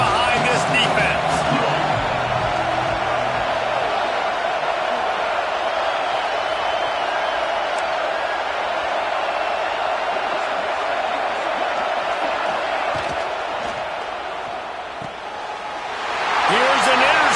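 A college football stadium crowd at Iowa vs. Penn State roars steadily behind the home defense on a big third down, a dense sustained din that dips briefly and then surges louder near the end, with a commentator talking over it.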